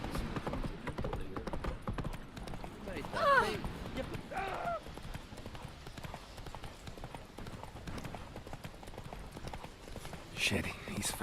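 Horse galloping in the video game The Witcher, a quick rhythmic clip-clop of hooves running steadily throughout, with brief shouted voices and game sounds over it.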